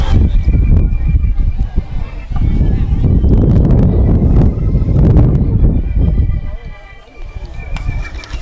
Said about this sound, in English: Wind has not died down at all.